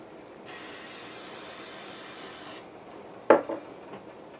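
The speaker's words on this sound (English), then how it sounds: "I'll spray a little oil in there." A steady hiss of cooking oil sprayed into a pasta pot lasting about two seconds, followed a moment later by a sharp metallic clank and a couple of softer knocks.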